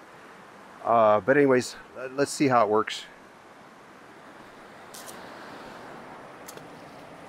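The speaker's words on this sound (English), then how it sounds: "I'm right by the stream. Sorry about the stream noise." A mountain stream rushes steadily near a campsite with cargo trailers, a broad constant wash of flowing water that a voice talks over briefly before the water continues alone.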